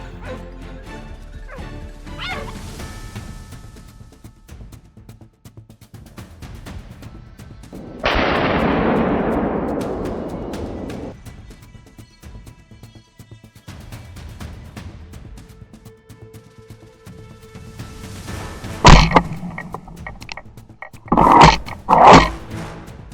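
Hunting hounds barking and clashing with wild boar, joined by loud rifle gunshots in a sharp cluster near the end, with a broad crashing rush through brush in the middle.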